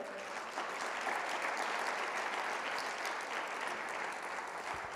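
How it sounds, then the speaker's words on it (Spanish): Congregation applauding during a church service, a steady, even wash of many hands clapping at moderate distance, continuous throughout without talk. "Le damos un aplauso fuerte a él."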